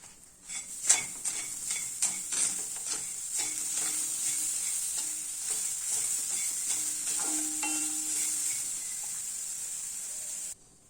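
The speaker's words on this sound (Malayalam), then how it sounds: "ഇനി ഇതിലേക്ക് ഒരു നാല് ടേബിൾ സ്പൂൺ അളവിൽ തേങ്ങയാണ് ഇട്ടു കൊടുക്കുന്നത്" Grated coconut is stirred into freshly roasted rice in a hot pan with the heat off, producing a steady hiss and sizzle with repeated spoon scrapes and clinks against the pan, close and alone.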